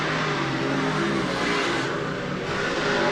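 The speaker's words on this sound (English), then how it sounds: "78 car makes his way by." A dirt race car roars past at Volusia Speedway Park during the DIRTcar Nationals, a loud, continuous engine drone with a brief dip as it sweeps by, no talk.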